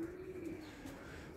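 Pigeons coo softly in a low, faint murmur against a quiet background, with no voices.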